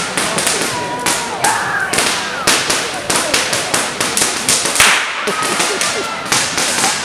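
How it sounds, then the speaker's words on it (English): Fireworks explode in rapid succession, a dense run of sharp cracks and bangs over about seven seconds, loud and close, with some speech faintly audible beneath. "reacting to the fireworks"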